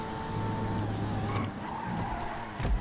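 A race car in GTA Online brakes hard, its engine droning under a long tire squeal and skid, ending with a sharp louder scrape.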